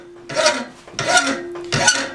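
A hand file rasps across a handmade steel bowl gouge, shaping its bevel in three long, close, bright scraping strokes separated by short pauses.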